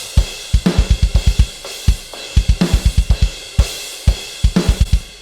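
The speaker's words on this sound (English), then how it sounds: "The unaffected drum sound sounds something like this." A dry, unprocessed metal drum kit from Superior Drummer 2 with Metal Foundry cymbals plays alone: punchy kick runs in quick bursts under sharp snare hits and cymbal crashes, forming a steady, driving rock groove.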